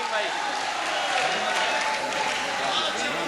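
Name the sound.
audience applause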